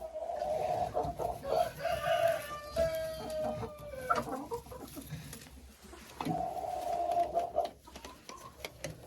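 Hens out in the frosty winter yard give a run of close clucks and a squawk or two, busy fowl chatter carrying on alone with no talk over it.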